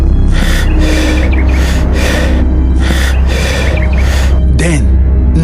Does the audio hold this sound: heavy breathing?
yes